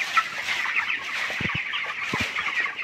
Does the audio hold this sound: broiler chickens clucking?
yes